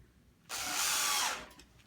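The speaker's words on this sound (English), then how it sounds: "lock them in with some 5 by 10/8 screws" A power driver whirs close and loud for about a second, running a 5 by 10 screw in to fix a grid onto a display, then stops.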